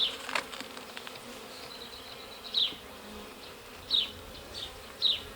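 Honeybees buzzing around an opened alpine hive, a soft continuous hum with several brief louder passes as bees fly close, no talk.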